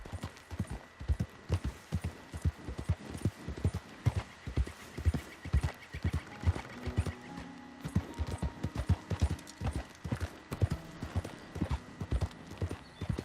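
Steady clip-clop of horse hooves at a walking pace in Red Dead Redemption 2, rhythmic and close, with a brief whinny and faint background tones.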